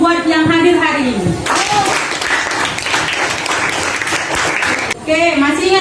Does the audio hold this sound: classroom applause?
yes